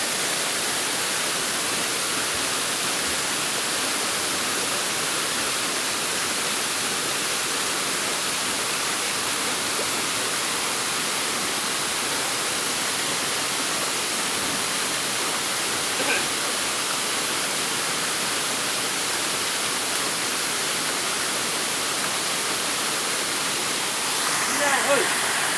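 Matambag Falls waterfall pouring water down onto rocks below, a steady broadband roar that stays loud and constant throughout, with no voices breaking through.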